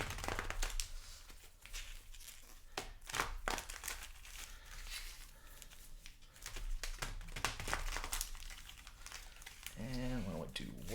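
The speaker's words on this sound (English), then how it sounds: "Give these a shuffle here." Mystery Booster 2 card packs being shuffled by hand, giving dry crinkling and crumpling of foil wrappers in bursts, close and fairly loud, with a person talking over much of it.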